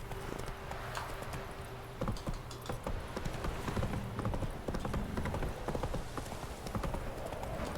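A horse gallops in the Witcher 3 video game, its hooves clip-clopping in a fast, steady rhythm that runs the whole time over a dense layer of game background sound.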